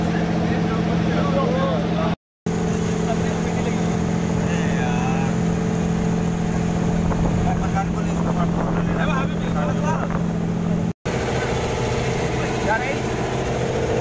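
A motorboat engine drones steadily and loudly while crossing the water to the island temple of Philae near Aswan, a continuous low hum with a voice talking over it.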